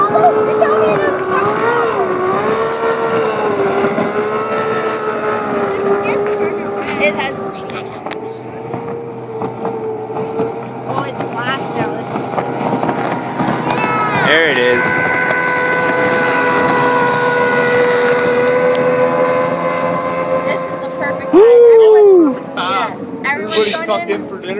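A Hydrostream V-King boat powered by an Evinrude 225 H.O. E-Tec outboard holds a steady, loud buzzing drone as it runs past, rising to a sharper pitch sweep near the end, with people talking over it.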